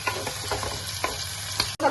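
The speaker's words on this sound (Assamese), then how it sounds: "এইখিনি অকণমান 5 মিনিটমান ভাজি লওঁ।" Chitol fish chutney frying in a pan, a continuous close hiss of oil with a few soft stirring scrapes and a brief bump near the end, no voices.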